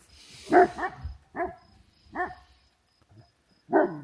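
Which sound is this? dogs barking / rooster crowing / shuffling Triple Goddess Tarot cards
dogs barking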